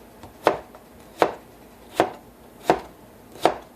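A knife chops white potatoes into thick strips on a cutting board, five sharp, evenly spaced thuds ringing out close and clear with no talking.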